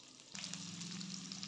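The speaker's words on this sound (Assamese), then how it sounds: "এতিয়া তেলত দিছোঁ পিঁয়াজ" Onion hitting hot oil for an Assamese fish curry, a steady loud sizzle that starts abruptly and keeps crackling without pause.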